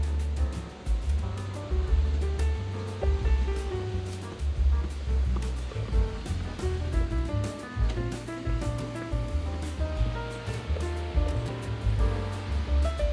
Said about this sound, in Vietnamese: Đi dạo biển.